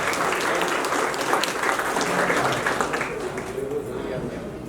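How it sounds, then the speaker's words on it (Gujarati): An audience at a school's tenth anniversary celebration claps in a dense, sustained burst of applause that holds steady and fades slightly toward the end. "જોરદાર તાળી તો આ બહેનો માટે ખાસ પહેલા પાડીશું"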